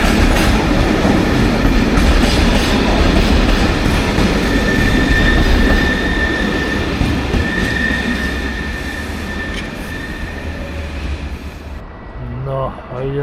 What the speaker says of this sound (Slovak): No a ide nám pekný Vectronik, České dráhy 193 686 Ctrl 3